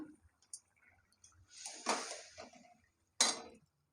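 A spoon adding sugar to a pot of Bengali ash gourd and coconut curry, a few sparse metallic clinks and a brief scrape, close and quiet with silence between.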